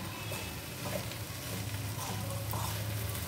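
Green beans and grated coconut stir-fry in a pan, making a soft, continuous dry sizzle with faint scraping as they are tossed, low and even throughout.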